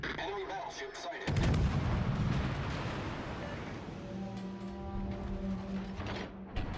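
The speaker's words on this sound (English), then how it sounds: "Is Kagero gunning down a Friesland?" Gunfire from a Kagero destroyer engaging a Friesland in World of Warships, a loud burst of naval gun blasts followed by a sustained rumbling barrage of shots with a mechanical hum beneath it.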